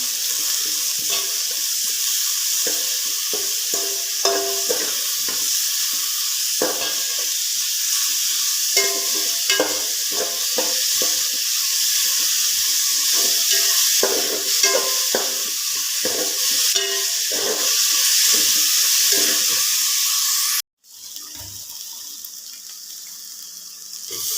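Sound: onions frying in a pan

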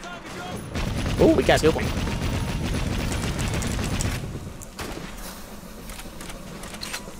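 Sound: gunfire in the video game Assassin's Creed Syndicate

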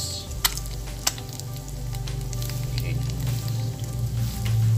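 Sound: onion frying in pan

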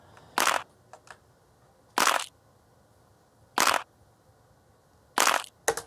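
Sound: pitched-down snap samples layered as snare

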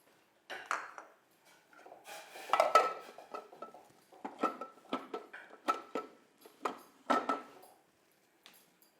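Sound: stirring a mixture into boiling water in a pot

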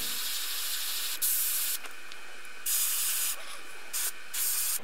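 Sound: spray painting a perch pattern on a fishing lure

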